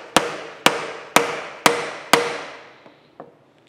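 Five sharp, evenly spaced metallic taps on steam stoker engine connecting rod parts, close and loud, each ringing briefly, followed by two fainter lighter taps.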